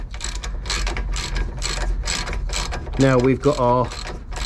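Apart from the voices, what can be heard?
ratchet tightening bolt on Nissan 350z banana arm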